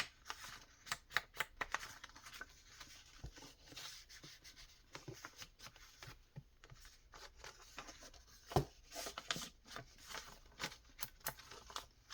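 Ink is rubbed onto the edge of a paper page in short scratchy strokes, soft brushing rasps and occasional taps repeating close by in an irregular rhythm, with no talking.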